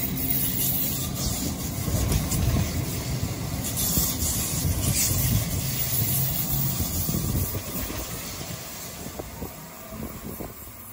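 An Alstom Citadis tram on Sydney Light Rail's Dulwich Hill line rolls past, a steady low rumble of wheels and motor with faint squeals, moderately distant and continuous throughout.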